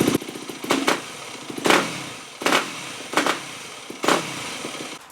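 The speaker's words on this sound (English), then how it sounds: "It idles really nice and smooth, no hanging idle, no immediate sputter right off the idle." A Yamaha WR250F dirt bike engine runs close by with a low puttering idle, broken by repeated sharp revving bursts about every three-quarters of a second.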